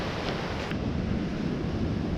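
Ocean surf washes in a steady, broad roar beside a runner on the Auckland Marathon 2022 course, mixed with buffeting wind noise on the microphone and no talking.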